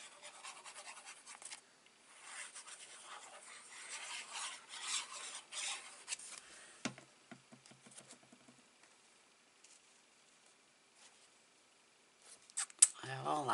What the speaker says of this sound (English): I need to trim one down.